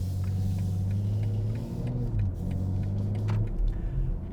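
A BMW M340i sedan's engine hums steadily, heard from inside the cabin, with a low continuous rumble and shifting pitch as it downshifts, moderately loud and steady throughout.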